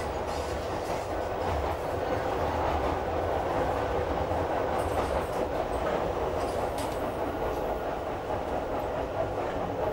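A Class 310 electric multiple unit runs on rails near Fenchurch Street, a steady loud rumble with rhythmic wheel clatter over the track heard from on board, no talk.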